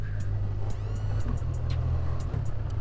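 BMW R12 nineT motorcycle engine droning steadily up close while the rider shifts up and down through the gears on the quickshifter without the clutch, each quick shift breaking the loud continuous rumble with a brief dip and rise.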